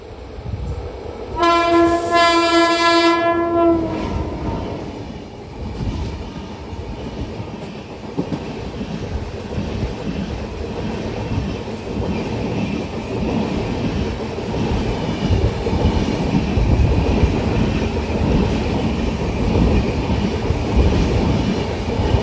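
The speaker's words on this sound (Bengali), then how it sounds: "পদাতিক এক্সপ্রেস।" Padatik Express train on the Kolkata to North Bengal line sounds a loud harmonic horn blast of about two seconds, then rumbles on with continuous heavy rolling and rail clatter, close and sustained.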